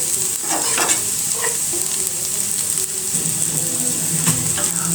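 Pieces of cow liver fry slowly over a low flame while being stirred. A steady hiss and crackle runs throughout, punctuated by occasional scraping stirs, close up and with no talking.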